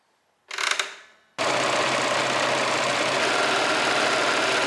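Serger overlocker stitching rolled hems on a dress: a short burst of machine whir, a brief pause, then a steady, loud, continuous mechanical drone running to the end.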